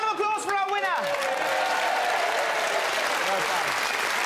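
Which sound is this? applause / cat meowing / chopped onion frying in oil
applause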